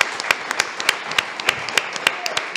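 Studio audience clapping for the crew of a French film-effects television programme, a dense patter of many hands with sharper individual claps standing out, moderately loud and steady throughout with no talk over it.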